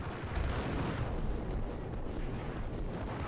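Gunfire while shooting enemies in the video game Max Payne: a dense, continuous barrage of booming shots and blasts, loud and unbroken throughout, with no voices.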